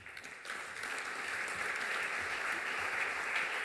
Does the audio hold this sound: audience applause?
yes